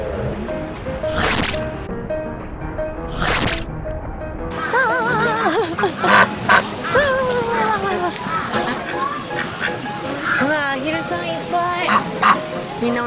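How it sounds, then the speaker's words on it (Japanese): Many ducks crowding in at a zoo at feeding time, quacking repeatedly nearby, with children and adults talking over them and rustling close by. "アヒルがいっぱい来ちゃった。"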